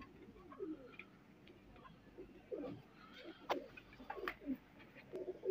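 A pair of pigeons, a Ferozpuri male and a Teddy female, give soft, low, repeated coos at close range over a faint background hum.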